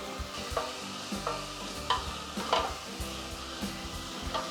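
Chopped green jalapeno and garlic sizzling in a pan, a soft continuous fry with repeated scraping knocks of a utensil stirring against the pan at a steady rhythm, up close.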